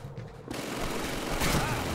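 A Call of Duty 2 battle erupts into dense, loud machine gun fire, a sustained rattling barrage that swells after a brief quieter opening.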